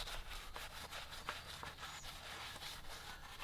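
A tire being scrubbed with foaming tire cleaner makes a steady, close scrubbing rasp with quick repeated brush strokes throughout, with no talking.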